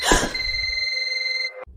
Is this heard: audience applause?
no